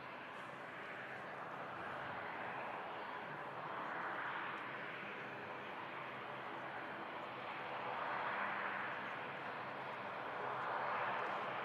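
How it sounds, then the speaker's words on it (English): A jet aircraft arriving from Singapore lands at Manchester Airport, heard as a steady, fairly distant roar of engines that swells and fades slightly throughout, with no voices. "Aircraft landed here from Singapore."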